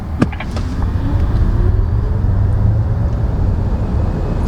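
A Mercedes EQC 400 electric car accelerates hard on the road, a loud steady rush of tyre and wind noise with a faint rising motor whine, heard from inside the cabin without talking.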